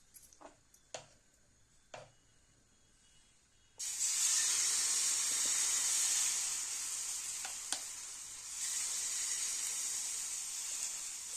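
Wheat flour ghavane batter hits oil on a hot pan with a sudden loud, steady sizzle that fills the rest, after a few faint clicks and taps in a quiet kitchen.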